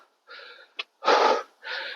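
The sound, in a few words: heavy panting from breathlessness while trekking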